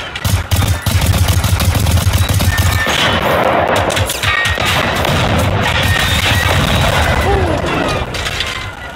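Gunfire in the video game Generation Zero: loud, rapid bursts of shots and booming reports come thick and fast. A voice talks over parts of the shooting.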